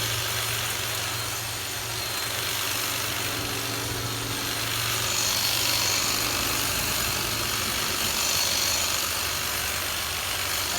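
A Kobalt 24v cordless electric hedge trimmer runs with a continuous buzzing motor drone and rattle, steady and close for about eleven seconds, swelling slightly midway.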